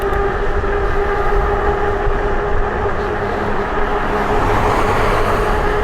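Loud, steady wind roar with a low rumble while riding an ENGWE X24 e-bike at speed straight into a headwind, constant throughout with no talking.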